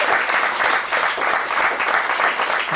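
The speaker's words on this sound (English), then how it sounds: "Let's give these guys one more big round of applause." A big round of applause from a theater audience for performers at an adult dramatic acting showcase, steady and fairly loud with many hands clapping together throughout.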